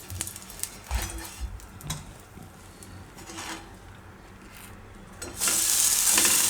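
Slices of bread toasting in ghee in a hot pan crackle with a soft, steady sizzle, broken by a few light clicks of turning, before the hiss swells louder and brighter near the end.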